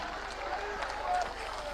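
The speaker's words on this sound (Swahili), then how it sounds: "Tupigie rais wetu makofi." An audience applauds the president at a public event, a steady broadband clapping that swells briefly and holds through the moment at moderate distance.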